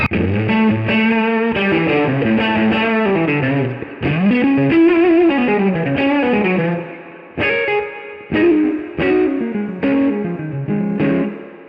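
A distorted electric guitar through a Plexi-style drive with echo plays bending, sustained notes, then choppy phrases with repeats trailing after them.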